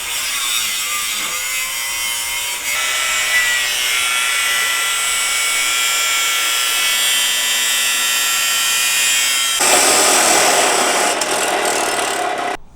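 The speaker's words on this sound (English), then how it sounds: "now we're going to cut it with an angle grinder" An angle grinder cuts through the front suspension struts of a BMW E30 during an Air Lift air suspension install, a steady high, harsh whine that runs loud and continuous for the whole stretch and grows rougher and brighter near the end.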